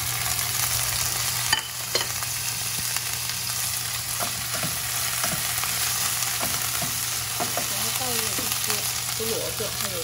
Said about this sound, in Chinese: 我们炒好的那个虾球放下来。